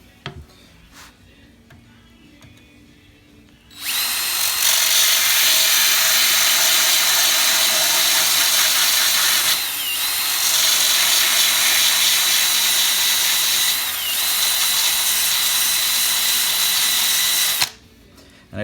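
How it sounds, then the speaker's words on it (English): A power drill fitted with a 3M abrasive mandrel revs up sharply and whines at its highest speed for about fourteen seconds, dipping briefly midway, then cuts off abruptly. "I take one of these 3M mandrels right here"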